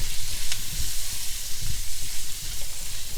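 Ground cumin and turmeric sizzle loudly in hot oil in a pan for a paneer and pepper curry, a dense, continuous frying hiss with soft low thumps of stirring, close up.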